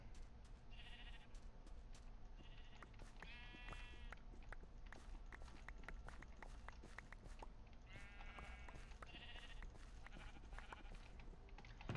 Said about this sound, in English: The sheep are doing okay.